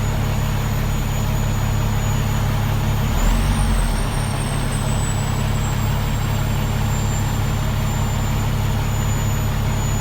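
A 2013 Peterbilt 386 truck with a 450 HP Cummins engine and stacked exhaust drones loudly and steadily close by through an open window, with a brief hiss partway through.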